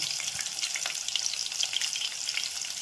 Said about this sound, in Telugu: ఇప్పుడు క్యారెట్ ముక్కలు వేసుకుందాం